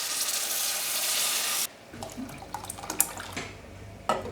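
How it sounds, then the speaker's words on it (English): Liquids poured into a pot of fried herbs and spices for beef barbacoa: a loud steady pouring rush for under two seconds, then quieter drips, small splashes and bubbling. "Pour in the liquids and bring to a simmer."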